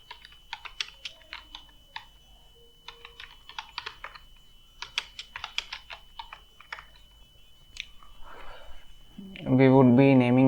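Quick clicking keystrokes on a computer keyboard at a terminal come in irregular bursts with brief pauses, close and clear, ending with a loud tonal hum.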